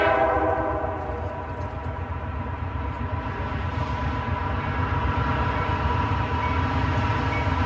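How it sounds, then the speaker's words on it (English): A long freight train of over a hundred wagons passes near Belton Station, a steady loud rumble and clatter of rolling cars with a sustained horn-like tone at the start, continuous and close throughout. "count the number of wagons on the next freight train, which takes minutes to pass"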